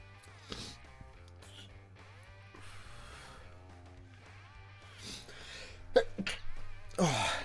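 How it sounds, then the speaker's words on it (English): A single person's sneeze bursts out loudly near the end, following a music-like tonal background with sustained notes in a quiet room. "Oh, that sneeze has been coming for about 40 minutes."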